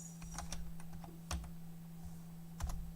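Keys on a computer keyboard are tapped in quick, uneven bursts, close and fairly quiet over a steady electrical hum.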